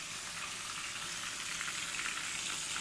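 Kusa stuffed with ground meat frying in a pan, a steady dense sizzle of hot oil, close and constant throughout with no talking.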